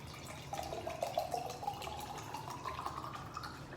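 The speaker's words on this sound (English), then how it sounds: "we're gonna fill it up with 2 cups of water" Water is poured from a container into a glass jar to make homemade almond milk, a steady trickling and splashing pour that runs continuously at moderate volume with no voices over it.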